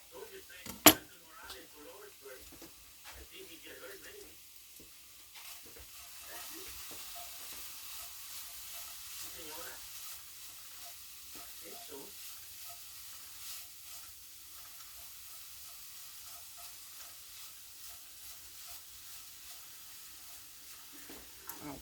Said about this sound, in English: Now we'll mix these onions together.